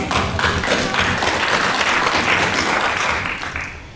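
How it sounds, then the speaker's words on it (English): Audience applause at a talk by a brain and memory speaker, a steady sustained clapping from a crowd filling the room, holding at an even level for several seconds before tapering slightly at the end. "May we have some applause, please?"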